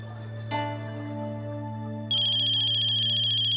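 A telephone ringtone starts partway through and rings loudly and steadily over a constant low hum, with a brief tone just before it.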